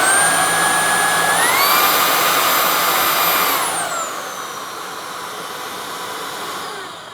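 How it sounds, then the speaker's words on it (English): Roidmi S2 cordless vacuum cleaner switched on and running, a loud steady whine that steps up in pitch as it changes power level, then winds down to a lower steady hum, close by with no talking. "So you press and hold it to switch it on."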